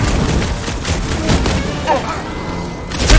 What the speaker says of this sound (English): Sounds like a lot of flaunting gunfire!